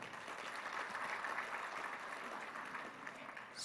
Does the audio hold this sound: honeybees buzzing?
no